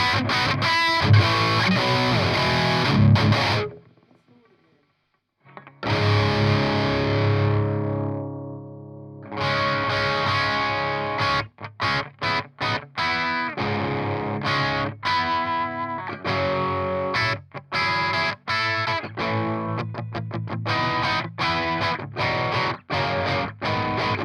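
Electric guitar played through the gain channel of a PRS MT15 tube amp gives loud distorted chords and riffs, with a brief quiet gap early on and choppy stop-start rhythms throughout.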